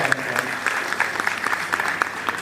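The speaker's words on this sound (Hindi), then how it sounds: "उनके लिए एक बार जोरदार तालियों के साथ चाहूंगा" Hearty applause from a university audience at a keynote address fills the space, dense steady clapping with a few sharper claps standing out, sustained and fairly close.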